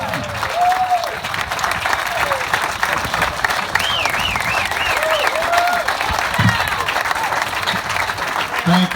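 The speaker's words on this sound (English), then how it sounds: "let's give a big round of applause for the one and only" A crowd greets Alabama broadcaster Eli Gold with loud, steady applause lasting several seconds, with cheers and whoops rising over the clapping.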